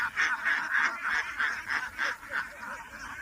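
Ducks on a duck farm honk and quack in a loud, steady run of nasal calls, roughly two or three per second, close by and continuing without a break.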